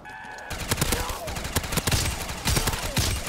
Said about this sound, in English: an upgraded M60 called Big Bertha